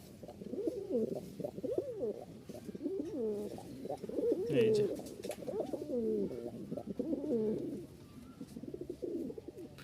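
Pair of Turibaz pigeons, a female and a male, cooing continuously and close by, with rhythmic repeated low throaty coos that overlap through the whole stretch.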